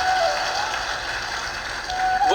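Steady crowd applause for a poet at an Urdu shayari recital, a continuous, fairly loud wash of many hands with a brief vocal cry near the start and rising cheers at the end.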